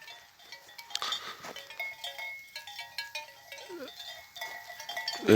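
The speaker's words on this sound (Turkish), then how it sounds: "keçi koyunlarımızı" Faint bleats from sheep or goats mingle with the tinkle of bells, somewhat distant and scattered over a quiet outdoor background.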